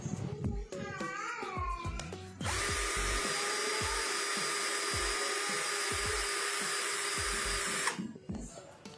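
A Nanwei 42Vf 20 V cordless drill whirs steadily in first gear for several seconds, loud and continuous, with brief clicks and rustling before and after.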